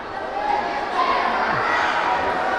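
A dense crowd roars at a bantamweight boxing title fight between Kenneth Llover and Yang Chengcheng, a loud sustained wash of cheering and shouting that fills the venue.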